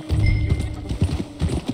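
Horse hooves clip-clop at a steady riding gait in the video game Red Dead Redemption 2, with loud, close, rhythmic thuds and a faint snort or whinny, and no talk over them.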